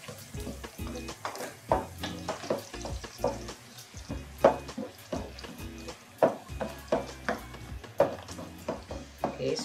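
Garlic browning in a frying pan gives a soft sizzle, broken by repeated scraping and stirring knocks in an irregular rhythm at close range.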